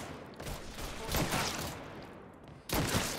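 Shotgun blasts in the Mafia III video game, a few sharp broadband bursts amid ongoing gunfire, with a loud shot near the end, firing close and fairly dense.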